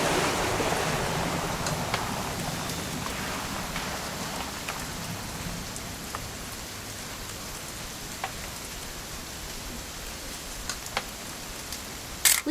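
Continuous rain in the video game What Remains of Edith Finch, an even, hissing patter of drops on surfaces that holds steady throughout, with a few faint ticks and a small clatter at the very end.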